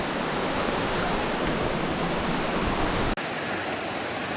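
Swollen mountain river in the Carpathians rushing loudly over a washed-out road, a steady broadband roar of churning water close by, with a brief dropout before it continues slightly thinner.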